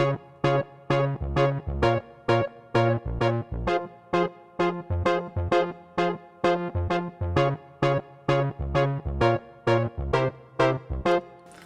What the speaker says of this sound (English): So the song starts off with this part on the keys.